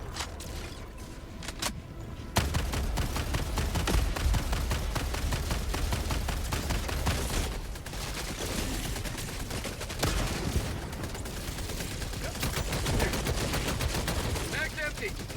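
In the video game Helldivers 2, a deployed sentry turret fires dense, rapid bursts of gunfire alongside other weapons during a chaotic solo fight against the Illuminate, with shouted callouts now and then.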